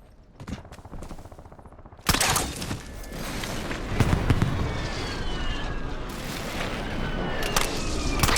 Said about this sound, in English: Hostile airstrike